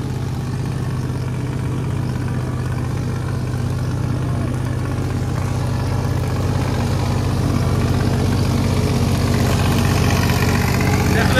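New Holland 3630 tractor engine idling nearby in a steady, loud, low rumble that holds unchanged throughout, with no talk over it.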